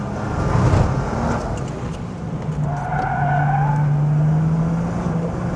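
A Nissan Juke-R or Porsche 911 GT2 RS oversteers out of a wet hairpin, engine roaring loud and close as tires squeal in a rising, drawn-out skid.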